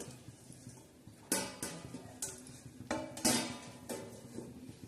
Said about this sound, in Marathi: आता आपली भाजी शिजत आहे आपण तिच्यावर झाकण ठेवणार आहोत